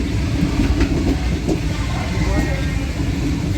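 A Karachi Express passenger train heard from the tail end of the rear coach, a loud, steady rolling rumble with a faint rhythmic clatter of the wheels, and a voice talking over the noise.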